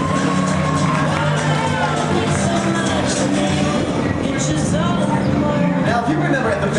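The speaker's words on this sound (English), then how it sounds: "how about a big round of applause for Melissa?" A large outdoor audience at a water ski show cheers and whoops loudly with children shouting, a dense continuous crowd roar lasting throughout, with no clear speech over it.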